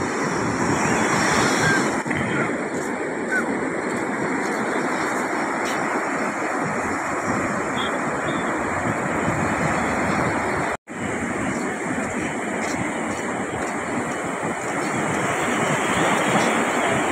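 Sea waves breaking on a beach after a storm has passed, a loud continuous roar of surf with heavy wind buffeting the microphone throughout and a brief dropout near the end.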